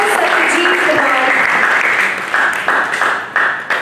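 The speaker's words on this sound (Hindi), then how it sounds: "तालियों की गड़गड़ाहट के साथ सम्मानित करेंगे" Audience applause at an honoring ceremony for a guest doctor at a student parliament event in Bihar, a loud sustained burst of clapping from a large crowd filling the whole stretch.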